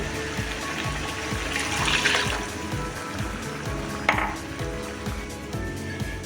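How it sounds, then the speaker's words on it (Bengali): Water in which peas were boiled pours steadily into a pot of mutton ghugni, a continuous gurgling fill with a small clunk partway through. "যে পানিতে মটর সিদ্ধ করেছিলাম সেই পানিটা দিয়ে দিচ্ছি।"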